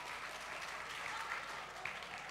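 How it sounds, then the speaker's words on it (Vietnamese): Audience applause at a live comedy show, steady and sustained clapping from a crowd filling the whole moment without speech. "tiếng vỗ tay để nói lên tất cả"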